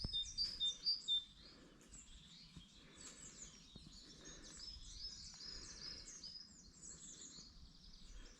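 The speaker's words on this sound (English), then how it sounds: "Just stop and listen to the bird song for a moment." Birds singing in birch woodland along a walking trail, several bright chirping and warbling phrases repeating at moderate distance in an otherwise quiet setting.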